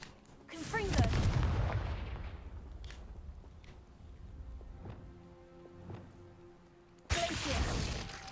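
A Confringo fire spell explodes in Hogwarts Legacy with a heavy booming blast that rolls away over a few seconds. A second loud blast hits near the end.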